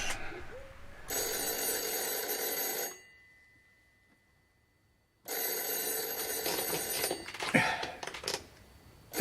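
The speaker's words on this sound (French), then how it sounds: "Dis donc, c'est le téléphone." A telephone bell rings loudly in two long bursts separated by a couple of seconds of silence, in a scene from the animated adventure Le Temple du Soleil featuring Tintin.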